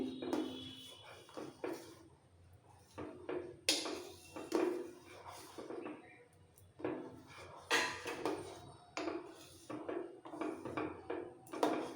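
A spoon stirs milk curdling with vinegar in a pot for Odia chhena poda, giving irregular scrapes and light metallic clinks against the pot that come in short bursts, close and fairly quiet.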